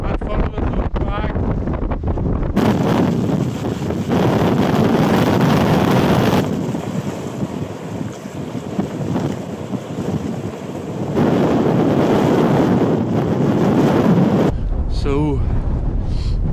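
Strong wind on an exposed headland at Melmore Head, Donegal, roars and buffets the microphone continuously, gusting louder and easing, with a brief voice at the start and end.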